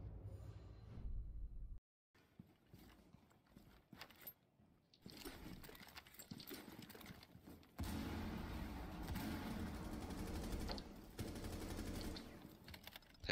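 Gunfire in a competitive shooter video game: rapid bursts and cracks of shots at varying loudness, with a brief silent gap early on and a sustained dense stretch of firing later.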